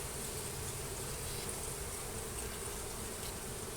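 Bees buzz around an aggressive hive during a honey harvest, forming a constant, dense drone that fills the air evenly without pauses.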